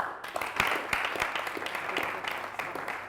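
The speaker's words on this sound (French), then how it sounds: "Merci de l'applaudir pendant qu'il nous rejoint." A studio audience at a TV variety show applauds a singer as he joins the stage: steady, fairly close clapping with a few sharp individual claps standing out over about three seconds.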